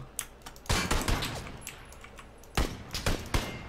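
Gunfire from the video game PUBG, with sharp cracks arriving in two bursts, the first near 0.7 to 1.3 s and the second from 2.6 to 3.4 s, moderately loud against a quiet in-game background.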